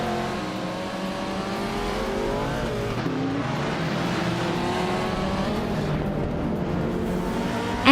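A pack of race cars in a video game, led by a 1969 Pontiac GTO at Dustbite Speedway, drones with layered revving engines that rise and fall in pitch, steady and continuous, ending in a brief sharp bump.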